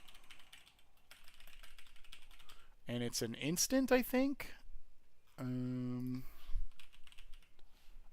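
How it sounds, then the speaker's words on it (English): Light, rapid clicking on a computer keyboard is heard faintly at the start, followed by a person talking and a brief sustained tone. "Me typing on stream."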